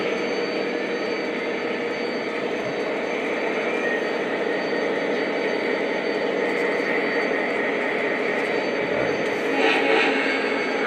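A PRR Keystone model train locomotive runs with a steady, continuous whirring drone that holds at an even level, with a slight swell near the end.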